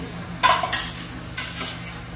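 A tomato is sautéed in a pan with lentils for masoor dum biryani, heard as a few sharp clinks and scrapes of a spoon against the pan over a faint background sizzle.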